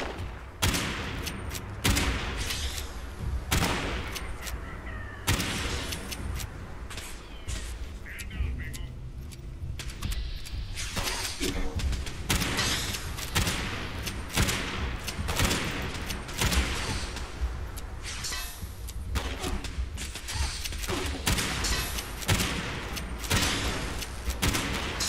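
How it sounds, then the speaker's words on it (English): Dense, continuous gunfire in the video game Fallout 76 rattles through the scene in rapid volleys with explosive bursts, loud and steady throughout, while a player talks over it. "The fuck is firing over that way?"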